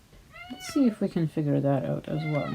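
House cat meowing repeatedly at close range, a string of several distinct meows in quick succession with a person talking over them indoors.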